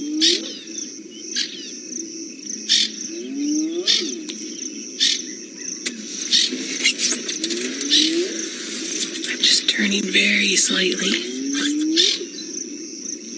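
Outdoors on safari, repeated harsh francolin alarm calls sound from behind over a steady insect buzz, warning of a leopard, with someone speaking quietly in between.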